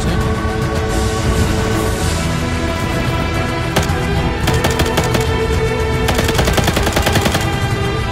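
Constant heavy gunfire in a military shooter video game, with rapid machine-gun bursts and single shots layered over a dense, loud battle din, no talk.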